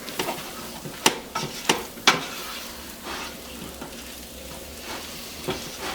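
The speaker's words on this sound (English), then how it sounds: "we will stir in to our vegetables to form a little bit of a roux. Cook this flour a little bit." Flour and vegetables are stirred together into a roux for lobster bisque. A spoon scrapes the pot in a few sharp strokes over a soft sizzle, then the cooking quiets to a gentle, steady frying hiss.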